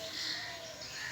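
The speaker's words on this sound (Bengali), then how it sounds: "অনেক পাখি ডাকে মুখরিত জায়গাটি।" Many birds chirp and call together under a large banyan tree, a busy overlapping chorus of short tweets heard from a little distance.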